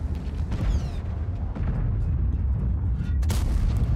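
Tank cannon fire from a T110E5 battle in World of Tanks, heavy booms and rumbling impacts over a dense, loud battlefield roar, with a sharp blast standing out near the end.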